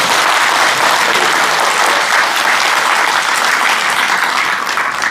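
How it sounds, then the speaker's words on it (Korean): A large audience at a book launch event in Daegu breaks into steady, dense applause, a loud continuous wash of clapping with no breaks. "여러분 의리의 친구 고성국 박사님 박수 한번 주십시오."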